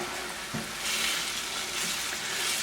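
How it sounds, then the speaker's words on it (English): Ketchup and other ingredients for chicken chasseur sizzle in a frying pan while being stirred, a steady close hiss with soft scraping that swells slightly as the mixture is worked. "We're going to throw that right in the middle of the pan. And we're just going to stir this up."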